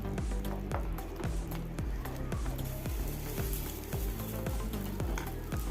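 Semolina is stirred in a pan over a low gas flame, a soft continuous scraping and sizzling with regular rhythmic strokes, quiet and close.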